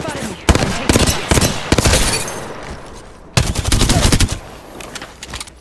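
Video game gunfire crackles in loud, rapid bursts, like automatic weapon fire. Volleys come in clusters with short gaps between them, and a voice talks faintly underneath.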